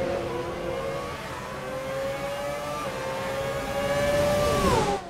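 Formula 1 race cars from the F1 2017 video game roar through a race, their high-pitched engines sweeping up and down in pitch as they pass one another. The sound is steady and moderately loud, with no one talking.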